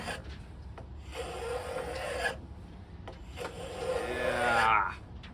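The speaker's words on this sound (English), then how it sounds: "Planing with the grain works just fine." A hand plane shaves along the grain of a wooden board for a kitchen riser in a few long, close rasping strokes separated by short pauses, the last stroke swelling louder before cutting off.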